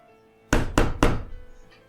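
Three firm knocks land on a door in quick, even succession, loud and close, followed by a brief fading resonance.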